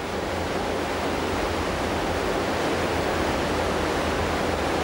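Water cascades thunder through caverns inside the rock of a valley wall, a dense, unbroken roar that stays loud and even throughout.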